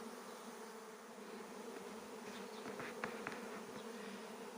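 A honeybee swarm fills the air with a dense, continuous buzzing hum, steady and fairly faint, with a few individual bees zipping closer past the microphone near the end.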